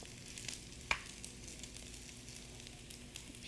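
Shrimp fried rice with scallions frying in a pan over medium heat, a steady soft sizzle running throughout with one brief sharp clink near the start, fairly quiet and without voices.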